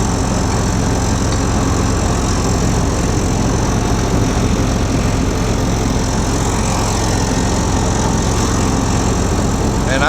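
An engine runs with its throttle barely cracked open, a loud, steady, close-up drone that holds for the whole stretch with no talking.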